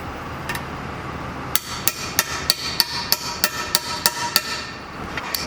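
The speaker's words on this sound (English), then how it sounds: "let's go ahead and tap in the shift rail seals." A socket is tapped with a hammer to drive shift rail seals into a Dana 20 transfer case, a series of about a dozen sharp, evenly spaced metallic taps close by over a quiet background.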